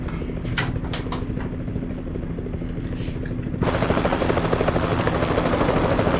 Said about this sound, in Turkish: Helikopter gelmiş dur hele